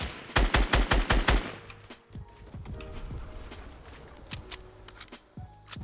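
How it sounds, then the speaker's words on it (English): A rapid burst of about eight close, punchy gunshots in Fortnite gives way to scattered, fainter distant shots and footstep-like clicks over game ambience. "they're getting shot right now on the hill from the broken house"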